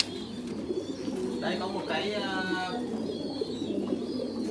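Domestic pigeons coo softly in the background while someone speaks Vietnamese close up over a steady indoor hum.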